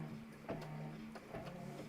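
An embroidery machine stitching advent numbers in a hoop, giving a quiet, steady mechanical whir with regular ticking needle strikes about twice a second.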